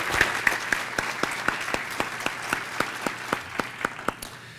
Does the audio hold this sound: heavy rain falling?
no